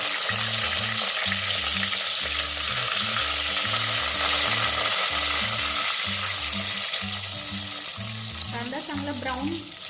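Sliced onion frying in a pan for chicken biryani, a loud continuous close sizzle that hisses steadily throughout, with a low rhythmic background hum and no talking.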